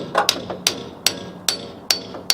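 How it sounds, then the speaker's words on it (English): A close hammer, swung on its side, bangs a brake pin on the front brakes of a 1991 Ford E350, giving roughly seven sharp metallic blows at a steady, slightly uneven pace with no talking. "using the side of the hammer"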